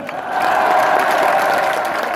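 Crowd at a Reims football club celebration applauding and cheering, a loud sustained wash of clapping with voices mixed in that swells after a brief start and holds steady.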